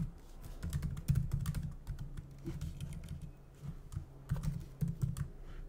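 Typing on a computer keyboard, with irregular bursts of close clicking keystrokes and short pauses between them.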